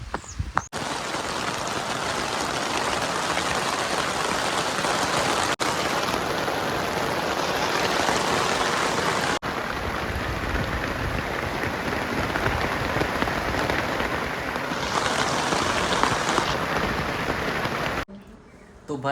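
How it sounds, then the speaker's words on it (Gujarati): Heavy monsoon rain pours steadily onto a farm field, a dense, loud, continuous hiss and patter with no break, close around the listener, before cutting off abruptly near the end. "વરસાદ ચાલુ થઈ ગયો ભાઈ જોરદાર"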